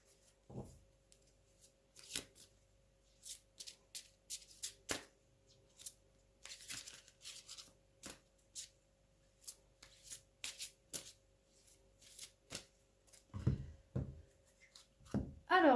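Oracle cards from the Gaïa deck are shuffled by hand in repeated quick riffling bursts, soft papery slaps with brief pauses between them, close and fairly quiet, no talking.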